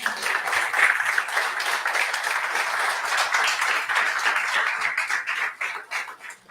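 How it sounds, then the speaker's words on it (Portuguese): A church congregation applauds, dense steady clapping from many hands that fills the space, with some voices mixed in before it thins toward the end. "Aplaudam Jesus."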